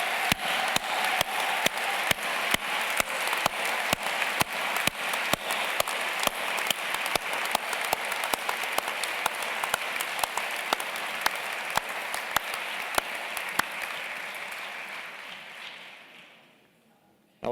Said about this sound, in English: join me in a second round of applause for City College's outstanding staff